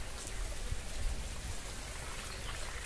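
Irrigation water flows through field channels around trees on a farm, a steady soft gurgling rush that stays faint and continuous throughout.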